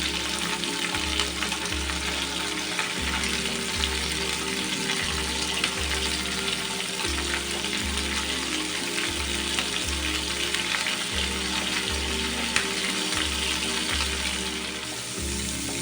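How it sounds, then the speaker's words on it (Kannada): Masala-coated prawns with curry leaves sizzle and fry steadily in hot oil, a dense continuous crackle with a rhythmic low thumping underneath throughout. "ಎಣ್ಣೆ ಬಿಸಿ ಆದಾಗ ಕರಿಬೇವಿನ ಸೊಪ್ಪನ್ನು ಹಾಕಿಕೊಳ್ಳೋಣ"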